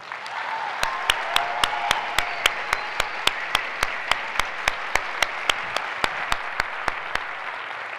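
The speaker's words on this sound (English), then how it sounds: "How about one more round of applause for Tupac?" A conference audience at the USITT 2016 keynote gives a round of applause for Tupac Martir, a soft crowd wash punctuated by sharp, evenly spaced claps ticking through the whole stretch.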